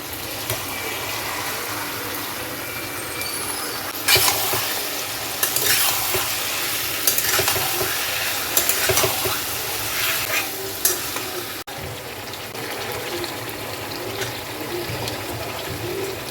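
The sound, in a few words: chicken frying and being stirred in pan with sauce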